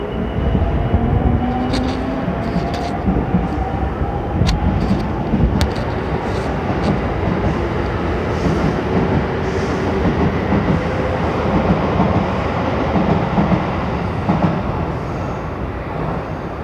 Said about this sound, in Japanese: 4番線から列車が発車します